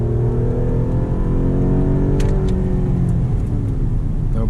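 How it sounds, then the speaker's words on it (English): A Chevy Equinox accelerates hard at full throttle, its engine droning steadily with rising harmonics as road and wind noise fill the cabin, loud and continuous throughout. "It's full acceleration here."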